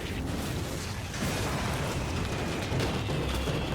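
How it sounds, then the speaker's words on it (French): Fireworks going off in a large outdoor display, a dense continuous crackle and rumble of bursts with a louder surge partway through, sustained and fairly distant. "c'est vite fait vos feux d'artifice là."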